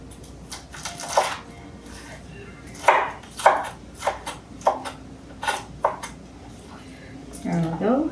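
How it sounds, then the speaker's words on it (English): A knife cutting through crisp spring rolls, giving a series of sharp crunchy chops and taps on a board, spaced irregularly and close, with a person talking in between. "And put the knife through here."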